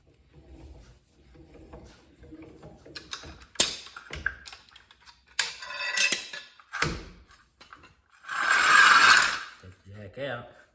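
A jack lowering a boat trailer with a tire being changed gives off a series of short metallic ratcheting clicks and clanks, close and irregular, ending in a louder grinding burst.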